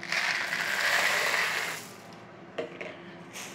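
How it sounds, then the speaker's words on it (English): Ceramic baking beads pour onto greaseproof paper lining a pastry quiche case, a close rushing rattle for nearly two seconds, followed by a few scattered clicks and small knocks. "Just stick that in there and stick your baking beads in"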